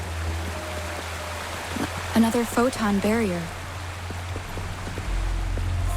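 Steady rushing water from a waterfall in the video game Wuthering Waves, a continuous hiss running under a short spoken line and some faint game tones.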